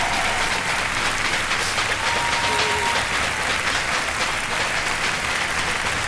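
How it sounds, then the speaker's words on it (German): A studio audience at a German game-show contest breaks into roaring applause, thick continuous clapping mixed with crowd noise, loud and unbroken throughout. "ihr hört den aufbrandenden Applaus"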